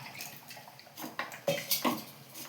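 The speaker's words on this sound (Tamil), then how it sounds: "கொஞ்சம் தண்ணி ஊற்றலாம்." Water splashes and trickles into a mixer grinder jar, with light clinks and knocks of the jar being handled nearby.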